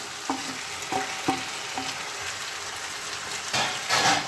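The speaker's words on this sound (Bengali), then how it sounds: "এবার আমি মাছের মাথাটা আর মাছের তেলগুলো এর মধ্যে দিয়ে দেবো।" Fish head and fish oil drop into a hot pan with greens and potatoes, setting off a strong sizzle while a utensil scrapes and knocks against the pan in several sharp strokes, then the frying swells louder.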